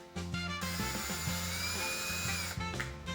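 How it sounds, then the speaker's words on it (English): A power drill bores holes in a Stratocaster guitar body for the bridge, whining steadily in short bursts with pitch changes as it bites into the wood, close and fairly loud, with no talking. "Now to drill the holes for the bridge"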